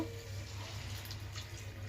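Water pours steadily into a pan of prawn gravy curry, a continuous close splashing and trickling rush that holds at an even level throughout, with no talk.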